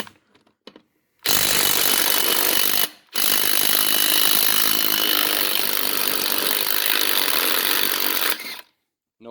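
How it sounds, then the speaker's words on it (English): A DeWalt impact gun loudly hammers lug nuts off a Gehl 4625SX skid steer wheel in two close, sustained rattling bursts, the first about two seconds and the second over five, separated by a brief pause, with no talking. "Really impressed with this little DeWalt gun."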